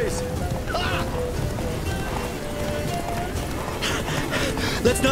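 Horse hooves gallop in a fast, continuous drumming rhythm in The Witcher 3: Blood and Wine, with brief voice fragments and game sounds over the running steps.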